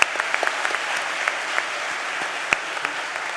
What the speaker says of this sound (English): can we please give a huge round of applause, another one for Coach Roberts